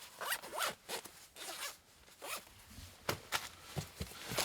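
Repeated short zipping strokes come from the top zipper of a pouch for a fifth-generation Toyota 4Runner rear MOLLE panel, close and clear, with a steady back-and-forth rhythm and no voices.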